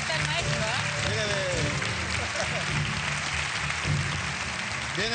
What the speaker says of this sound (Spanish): Y le diré un aplauso al maestro.